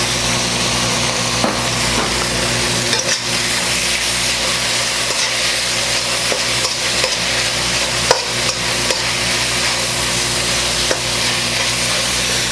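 Pork stir-frying in black bean sauce with Chinese rice wine gives a steady, loud sizzle in a hot pan, with occasional scraping clicks of a utensil and no speech.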